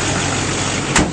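A 2009 Chevrolet Silverado 2500 with a 6.6L LMM diesel engine runs steadily, a smooth, broadband, continuous drone heard up close under the open hood, with a brief louder bump near the end.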